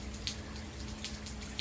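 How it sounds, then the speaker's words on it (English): Heavy rain falls on a flooded driveway during a storm in Southern California, making a soft continuous patter with a few sharper drips splashing into standing water, faint and alone. "If that gives you an idea how much it's raining,"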